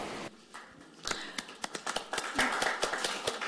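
Audience applause at a Korean forum event, with scattered hand claps that start sparse and grow into a denser round of clapping, fairly faint and close.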